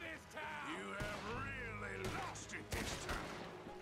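Gunfire in the video game Red Dead Redemption 2 cracks out in a few sharp shots under a distorted, wavering voice and game sound effects, closely miked and fairly loud.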